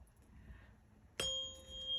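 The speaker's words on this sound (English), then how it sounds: "prepare yourself so you remain safe and sound as I ring this bell." A meditation bell is struck once after a quiet stretch, a sudden bright ring with a steady sustained tone that hangs on to the end.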